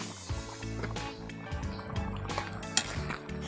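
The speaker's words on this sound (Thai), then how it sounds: "แล้วก็โรยน้ำปลาไปหน่อยหนึ่งจ้ะ" Fish sauce is sprinkled into a pot of green chicken curry with Thai eggplant and curry paste, giving soft, close liquid trickles and small drips with a faint gurgle.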